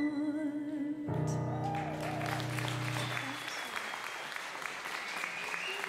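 An audience applauds steadily after a live song performance, the clapping running throughout while the music's final sustained notes fade out in the first second.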